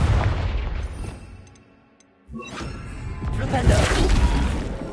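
Heavy booming blasts from the Confringo fire spell in Hogwarts Legacy, a loud burst fading into a brief lull before a second crashing explosion rolls in and lingers.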